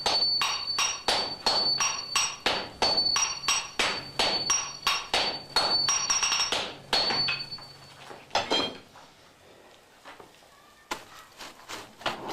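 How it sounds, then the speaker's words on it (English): Japanese swordsmiths strike steel with small and large hammers in a fast, steady rhythm of loud, ringing metallic blows that slows and scatters into a few sparse hits toward the end. "The rhythm of Yoshindo's small hammer tells his disciples wielding the large hammers how"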